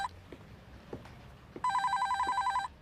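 A telephone rings once in a steady electronic trill lasting about a second, clear and fairly near, following a few soft knocks and clicks.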